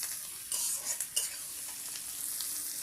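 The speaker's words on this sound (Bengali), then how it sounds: "এরপর ক্যাপসিকাম আর কাঁচা লঙ্কা একসাথে দিয়ে দিচ্ছি। হালকা করে এটা ভেজে নেব।" Capsicum and green chillies frying together in a pan give a loud, dense, continuous sizzle, with a couple of stirring scrapes near the start, close by and with no voices.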